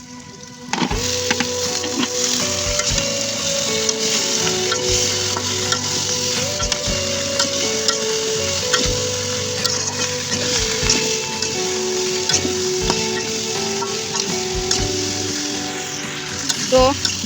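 Vegetables frying with whole spices and bay leaf in a pan, a loud continuous sizzle with frequent scraping and clanking stirs throughout, close and busy.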